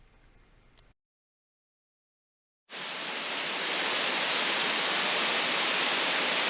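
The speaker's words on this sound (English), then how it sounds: "Wailua Falls gracefully cascade 80 feet through a lush setting just feet from the road" Wailua Falls on Maui, an 80-foot waterfall beside the road in a lush setting, comes in after a brief silence as a loud, steady broadband roar of cascading water.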